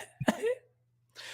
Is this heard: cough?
yes